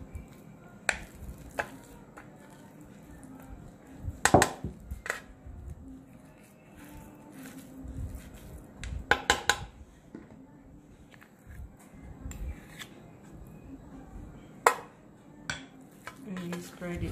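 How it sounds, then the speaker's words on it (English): A spoon or utensil knocks and scrapes against a baking pan while a buttery digestive biscuit base is pressed down, giving sharp intermittent clicks and taps over soft, quiet shuffling. "after mixing the butter and the digestive, you place it into your baking pan"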